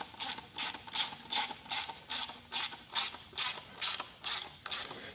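Hand ratchet tightening the bolts on an AXP skid pan for a 2026 KTM 690 Enduro, with about ten quick, crisp clicking bursts in a steady rhythm, close and alone.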